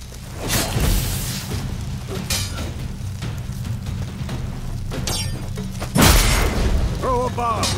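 Bomb thrown during combat in The Witcher 3: Wild Hunt, a heavy boom with bursts of debris and whooshes over a busy game soundscape, with a voice speaking partway through.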